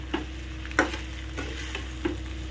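Boiled cauliflower and potato being stirred and sautéed in a spice paste in a pan, with a few distinct scraping stir strokes over a faint steady sizzle, close by and without talk.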